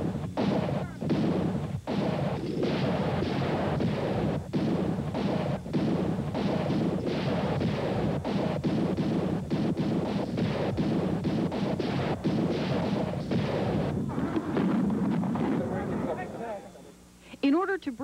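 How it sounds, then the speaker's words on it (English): Cannon firing blanks at a Civil War reenactment of the Confederate artillery barrage on the Union lines: a dense, rumbling series of booms and thuds that fades near the end, under a narrating voice. "At 1 p.m., 170 guns of the Confederate artillery opened up on the Union lines."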